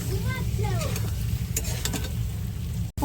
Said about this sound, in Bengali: এখন এই ভেজে রাখা ফুলকপিটা দিয়ে দেবো দিয়ে ভালো করে একটু নাড়াচাড়া দিই